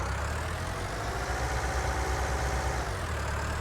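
Tractor in a farming game idling steadily, a low continuous engine rumble with a broad hum, even and close throughout the short stretch with no talk.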